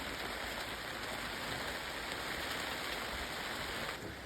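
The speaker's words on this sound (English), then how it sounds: "It's raining quite a bit." Steady rain pours down on a farm, a constant even hiss of drops on surfaces with no breaks, moderately distant and unaccompanied by voices.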